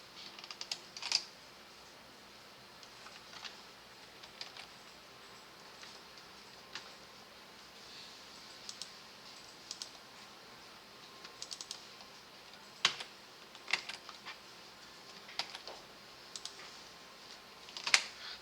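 Computer keyboard keys pressed while working in Photoshop, including a Ctrl+V paste: sparse, faint clicks and taps in irregular bursts, heard close in an otherwise quiet room with no talk.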